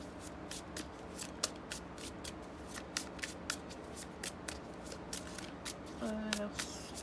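Tarot cards are shuffled by hand in quick, crisp riffling bursts, quiet and close, with a brief soft tone near the end.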